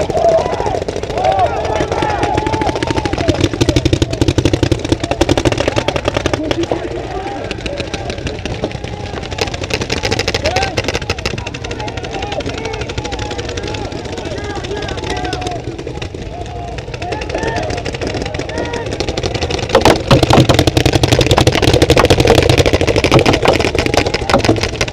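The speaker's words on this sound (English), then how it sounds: "They're shooting all down our sides." Airsoft guns fire in rapid bursts throughout a game, sharp crackling shots spread across the field, with players talking over the steady background noise.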